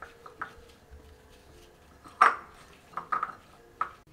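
Sliced kakrol is mixed by hand with a little chili powder in a dish, giving sparse soft clinks and taps of utensils against a bowl, with one sharper ping-like knock, quiet and close.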